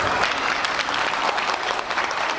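Audience applause at a yosakoi dance festival at OCAT, steady and fairly loud crowd clapping sustained throughout, with no voices over it.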